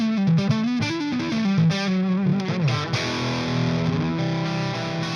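Loud, brash electric guitar with heavy distortion and effects-unit coloring, a thick saturated tone playing a short run of notes and then sustained chords, close and dense throughout.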